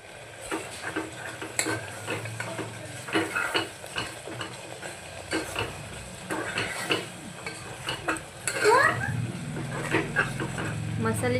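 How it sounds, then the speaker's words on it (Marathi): Mutton masala cooking over a low flame in a pressure cooker pan, soft sizzling broken by repeated spoon scrapes and metal clinks, with a voice talking at times. "आता मसाल्याचं छान तेल निघेपर्यंत आपल्याला छान असा मंद आचेवर होऊ द्यायचं आहे."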